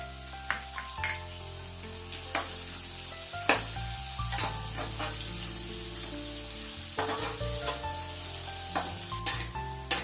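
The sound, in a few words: sautéing onions with salt in a pan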